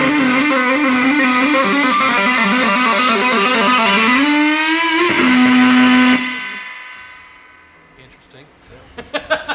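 A distorted electric guitar rings out with sustained, gritty notes and slight vibrato, a final held note cutting off into a fading noisy tail.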